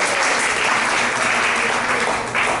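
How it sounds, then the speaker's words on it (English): Steady, dense applause from a theater audience at a cultural arts center, sustained and fairly loud throughout with no voices over it. "So if you could do one more applause."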